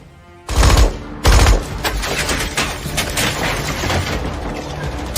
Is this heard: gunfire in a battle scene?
yes